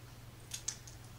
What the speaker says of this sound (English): And use old scissors.